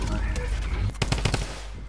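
Rapid gunfire from Fortnite Season 9, a quick cluster of sharp, loud shots fired in close succession after a steady game background, with a player's voice faintly present.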